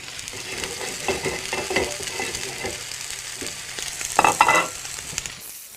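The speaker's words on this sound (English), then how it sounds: "So what we're going to do is seal the steaks, caramelize them, seal them on the plate." Sirloin steaks sear in a very hot pan, giving a close, steady sizzle with scraping and stirring noises and a louder burst of spitting fat near the end, with no voices.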